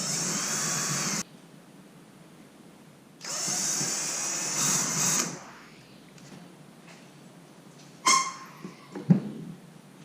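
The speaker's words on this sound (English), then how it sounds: "Use a 7/32 drill bit." A power drill with a 7/32 drill bit bores into a wall stud while a wall heater is installed, sounding in two bursts of steady whine with a quieter gap and clattering handling noises after.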